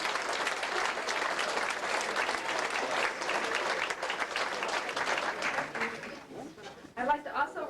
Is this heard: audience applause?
yes